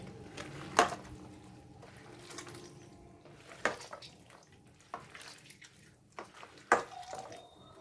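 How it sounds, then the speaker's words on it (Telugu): Water sloshes and drips as meat pieces are rinsed by hand, with a few sharper splashes and clatters against a bowl, no voices. "మూడు నాలుగు సార్లు అన్న వాటర్ వేసి కడుక్కోవాలి"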